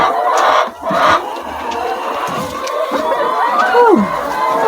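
Laying hens on a poultry farm cluck and squawk loudly and close, a continuous overlapping chorus with one rising drawn-out call near the end.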